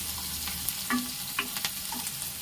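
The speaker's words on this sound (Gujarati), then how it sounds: "આપણે બધું સારી રીતે મિક્સ કરી લેશું।" Garlic potatoes with onion sizzle in a pan as a spoon stirs them, producing a constant close frying hiss with a few soft scraping knocks.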